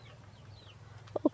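Free-range backyard chickens give two quick, soft clucks close together near the end, over a low steady rural hum.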